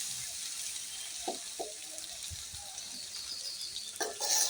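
Rice frying in a pan with turmeric powder and ground spice paste for chickpea khichuri, a faint steady sizzle with a few soft stirring scrapes and clinks, no voices.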